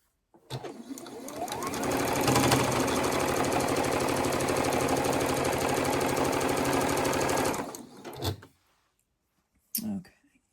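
A domestic sewing machine stitches a quilt piece down for a Sawtooth Star quilt, running as a loud, steady, fast mechanical whirr for about six seconds before slowing and stopping, followed by a short clunk.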